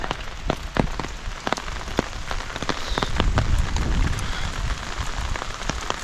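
Heavy rain pours steadily on a surface at a cardamom-growing home in Kerala, a dense continuous hiss broken by sharp, loud drips and splats nearby.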